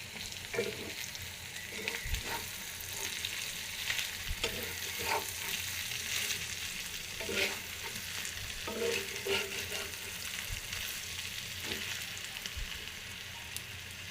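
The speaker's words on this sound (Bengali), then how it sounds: "মাছের ডিমটাকে এবার কিছুক্ষণ ভেজে নেব যতক্ষণ লাল না হয়" Fish roe frying in a pan at home, giving a steady, fairly soft sizzle with intermittent clicks and scrapes of stirring over it.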